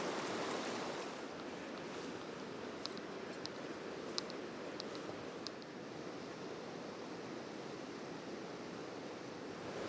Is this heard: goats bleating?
no